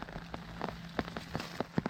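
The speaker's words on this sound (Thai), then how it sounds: "ฝนก็ตกเตก" Rain falls on a rice field during a storm in rural Isan, Thailand, with scattered drops tapping a surface in irregular close ticks over a faint steady background, no talking.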